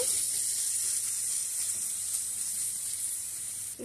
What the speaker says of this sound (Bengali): এখন দিয়ে দিব সামান্য পরিমাণে নারকেল বাটা। ভালো করে কষিয়ে নেব।